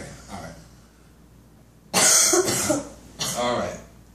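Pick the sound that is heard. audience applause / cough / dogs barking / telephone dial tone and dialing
cough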